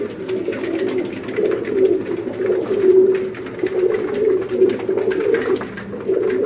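Badshah pigeons, golden birds kept for sale in Sialkot, coo continuously in a loud, close, rolling chorus of overlapping low calls with no talking.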